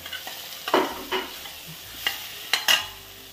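Capsicum and small-cut carrot pieces frying in masala while a spoon stirs them, with a low steady sizzle and several distinct scraping stirs at close range, no talk.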